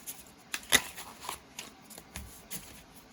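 Tarot cards are shuffled close up in a quiet room, with soft papery riffles and irregular light slaps and taps spread across a few seconds, one sharper snap standing out.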